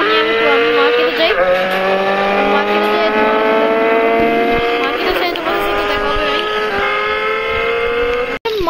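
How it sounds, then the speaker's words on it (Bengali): A motorbike ridden toward the market in Minecraft produces a loud, continuous engine whine that climbs and dips in pitch as it revs, close and dominant throughout, with a voice talking over it. "এই যে আমার বাইক, এটা আমি বাইকটা নিই, আমি মার্কেটে যাই"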